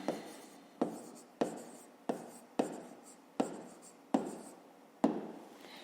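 A pen taps and scratches as an equation is written by hand on paper, close and distinct, with eight sharp strokes at a steady rhythm, each trailing off into a short scratch, no talking.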